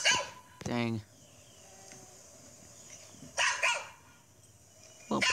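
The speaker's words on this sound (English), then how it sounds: "Little puppy." A puppy barks in short, sharp bursts from video playback, with a few loud yips spread across the clip and a faint whine between them.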